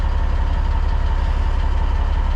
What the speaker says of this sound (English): There we go, cat back exhaust.